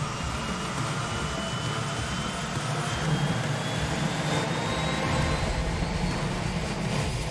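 A small island-hopping plane's engine drones steadily from inside the cabin, a constant broad roar that swells slightly midway, with no talking over it.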